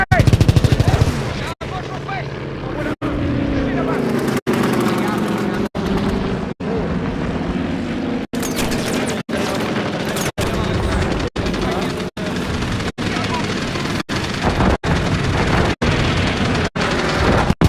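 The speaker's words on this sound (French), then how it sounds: "Tire de DCA! On est encore touché!" Rapid anti-aircraft gunfire in the World War II shooter Call of Duty WW2, loud sustained bursts broken by brief gaps, with explosions and engine drone beneath and a voice talking over the barrage.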